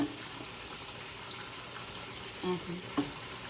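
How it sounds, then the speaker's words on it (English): Cold tap water runs over a pressure cooker at a kitchen sink, a steady broad hiss and splash with a couple of brief metallic clunks near the end. "you put it under the stove, under the water, cold water, and you let it run."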